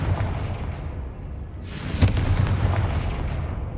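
A Confringo fire spell explodes in Hogwarts Legacy, a single sharp blast over a steady low background rumble, followed by a fading roar.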